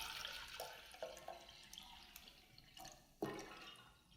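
Water pours from a container into a long, narrow flower vase, pre-mixed with flower food. It sounds faint and close, with intermittent splashes and drips over about four seconds.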